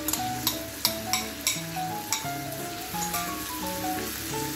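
Whisked homemade yogurt hits hot masala in a pan, bringing a loud sizzle broken by several sharp clinks and scrapes of a spoon stirring against the metal.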